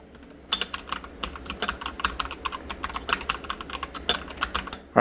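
Quick, muted typing on a keyboard with silent switches, soft irregular keystrokes in a steady flurry, close up with no voices.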